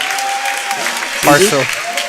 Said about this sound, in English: They just gave somebody a big round of applause.